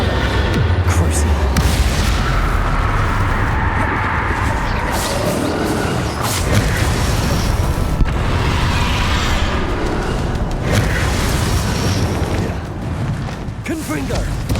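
Spell explosions from Bombardo and other combat spells in Hogwarts Legacy on Xbox One, a dense, continuous barrage of booming blasts and bursts layered with game effects, loud throughout.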